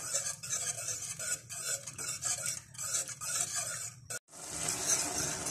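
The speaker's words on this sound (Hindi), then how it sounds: "मुसलसल विस्क के साथ या चम्मच के साथ आप इसको हिलाते रहें" A whisk or spoon works through a thick egg halwa mixture in a pan, a close rhythmic scraping and rubbing in quick repeated strokes, briefly pausing near the end before the stirring resumes.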